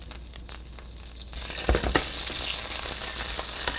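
Anchovies hit a hot pan of oil for aglio e olio, bursting into loud spattering pops and then a steady, intense sizzle after a quiet start.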